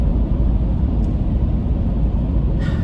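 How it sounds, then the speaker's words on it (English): Steady low road rumble and engine drone heard from inside a moving car, loud and continuous with no speech, a faint higher tone briefly rising near the end. "you know how I love traffic noise"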